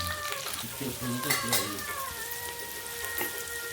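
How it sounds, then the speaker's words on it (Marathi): Onion with turmeric sautéing in a pan for a quick safflower-leaf sabji, a soft steady sizzle with a few stirring scrapes, fairly faint, with a voice briefly speaking over it. "आता याच्यामध्ये हळद घालून घ्यायची आहे याला पण व्यवस्थित परतून घ्यायचं आहे"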